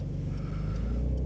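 A Porsche 911 Carrera engine runs at a steady, low throaty hum, fairly quiet and even throughout the short moment, with no talking.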